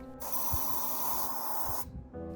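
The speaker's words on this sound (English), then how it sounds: "Now we spray it through an N95 mask." A steady, loud hiss of aerosol mist sprayed through an N95 mask runs almost unbroken for about two seconds, then cuts off abruptly and a short tonal hum follows.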